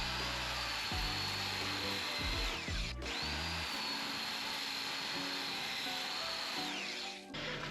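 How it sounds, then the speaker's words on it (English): A large angle grinder cutting a hole in a metal mounting plate for a diesel heater in a van, a loud steady high whine that holds almost throughout with a brief dip near the start. "I'm just going to use this giant angle grinder and cut a hole"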